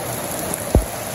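Rain falls over a Bangladeshi village, a brief, even patter with a single dull knock near the end and no talking.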